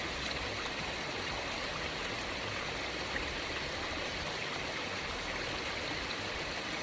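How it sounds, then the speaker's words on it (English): A river flows steadily close by during the summer sockeye salmon run, its broadband rushing and trickling unbroken throughout with no voices. "Just hanging out down by the river."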